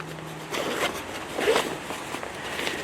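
The bottom zipper on a 5.11 Rush 100 backpack rasps open in a few quick close pulls, each a short scratchy zip, with no one speaking.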